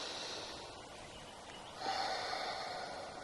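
A single slow breath is drawn in through the nose during a guided meditation, a soft airy sniff that grows slightly stronger partway through, close and quiet with no talking.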